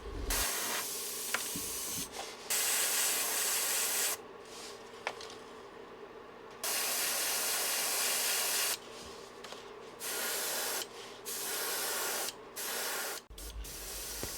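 Airbrush spraying yellow and black paint through a small template onto a lipless crankbait to form gill plates: several separate short hissing bursts of spray, close and fairly quiet, with brief pauses in between.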